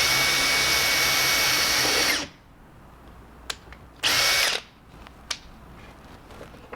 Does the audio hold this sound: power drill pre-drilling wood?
yes